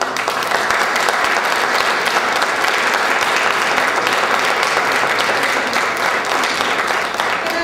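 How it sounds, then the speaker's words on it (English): A dense, loud round of audience applause at a San Francisco mayoral campaign event, sustained evenly from start to finish, with faint voices mixed into the crowd noise. "let's have a round of applause for you."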